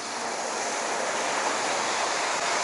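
Ocean surf rolls onto a beach in Goa as a steady, broad wash of breaking waves, loud and continuous with no pause, with some wind noise and no voices.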